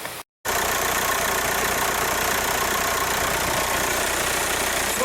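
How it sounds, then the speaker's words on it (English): Both cooling fans of a VW car running at once, a steady, loud whooshing hum that continues unbroken after a brief cut at the start. "Just wanted to show both fans working."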